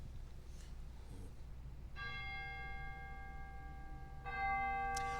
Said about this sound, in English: we do have solo chimes as well there, so we can have chime duets if we want